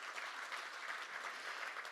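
Audience at a data spaces symposium applauds, a steady wash of many hands clapping at even volume for two seconds, fairly faint and without talk.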